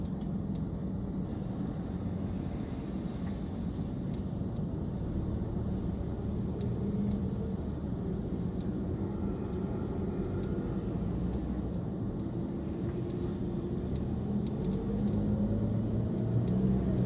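Road traffic on the NLEX expressway near Meycauayan gives a constant low engine and tyre rumble from inside a moving vehicle, steady and unbroken, with slight swells as it speeds up and no voices.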